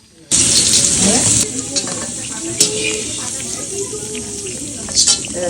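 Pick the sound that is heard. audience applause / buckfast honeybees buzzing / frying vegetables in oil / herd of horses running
frying vegetables in oil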